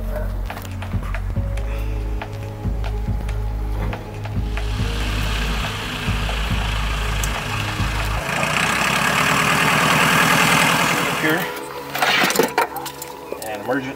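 A small propeller plane's engine idles with a steady low drone and mechanical clatter. The pitch then shifts into a rising, smoother whine. People talk over it throughout.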